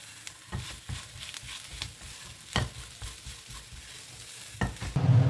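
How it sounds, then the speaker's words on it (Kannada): Spiced mashed potato filling for mini samosas with turmeric and chaat masala is stirred in a pan, a series of soft scraping strokes and taps of a spoon over a low sizzle, close by and without speech. "ಇದನ್ನು ನೀಟಾಗಿ ಮಿಕ್ಸ್ ಮಾಡ್ಕೊಳ್ಳೋಣ"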